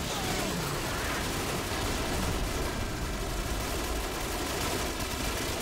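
Dense, continuous gunfire from night-vision weapons in Call of Duty Modern Warfare, the Bog mission, forming a steady loud rattle with booming low rumble throughout.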